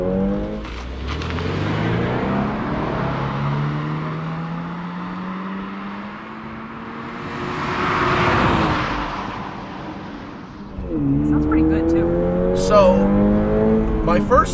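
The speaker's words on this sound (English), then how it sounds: "There's plenty of good induction noise." A new Subaru BRZ accelerates hard up a canyon road, its engine and induction note rising steadily through the gears, loud and close, with a brief lift and a talking voice near the end.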